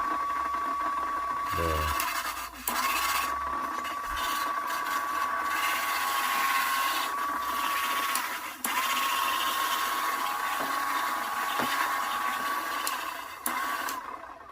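Cordless rotary wet mop cleaner running on a fresh replacement battery, a steady high motor whine held for many seconds with a few brief clicks and dips, close by.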